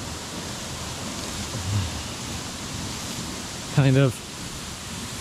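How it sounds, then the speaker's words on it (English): A small man-made waterfall pours from a rerouted pipe in an abandoned Japanese village, a steady broad rushing hiss throughout, with someone speaking briefly near the end. "A slightly man-made waterfall."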